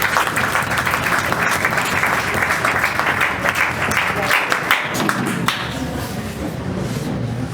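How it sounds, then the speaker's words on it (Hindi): Dense, sustained audience applause at a student felicitation ceremony, many hands clapping loudly and continuously without a break, fading slightly toward the end. "ताली हो जाए।"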